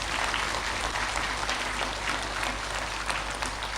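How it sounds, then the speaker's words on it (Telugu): Steady, continuous clapping from an audience at a spiritual discourse session, a dense even wash of hands with no voices on top, moderately loud throughout. "శరీరానికి చప్పట్లు కొట్టండి"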